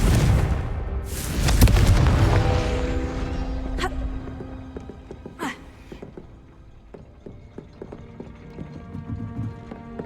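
Confringo blasting spell in the Hogwarts Legacy video game, a heavy booming explosion that peaks early and trails off, followed by scattered sharp cracks and debris clatter at lower level.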